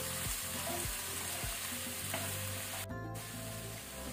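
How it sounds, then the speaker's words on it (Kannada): Coriander, cumin and garam masala powders frying over a low flame in a pan for chicken handi, a quiet, even sizzle broken by a few regular spatula scrapes, heard up close without speech. "ಇದನ್ನೀಗ ಫ್ಲೇಮ್ ಲೋ ಅಲ್ಲಿ ಇಟ್ಕೊಳ್ಳಿ. 1 ಮಿನಿಟ್ ಇದನ್ನು ಫ್ರೈ ಮಾಡ್ಕೊಳ್ಳಿ."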